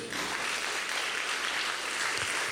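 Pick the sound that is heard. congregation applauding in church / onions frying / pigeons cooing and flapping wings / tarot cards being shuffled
congregation applauding in church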